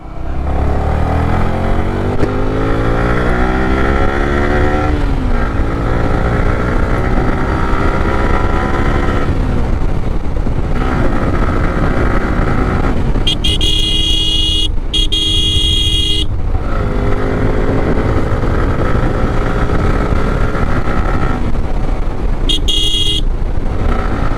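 A Yamaha R15 V3 motorcycle at full throttle in a top speed run, the engine note climbing loud and close through repeated gear changes, with bursts of horn honking along the way.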